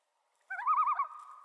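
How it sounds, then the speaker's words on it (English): A common loon gives a single wavering, tremolo-like call, starting after a short silence and holding clear and alone, then trailing into a steadier tone. "Common loons can be very vocal"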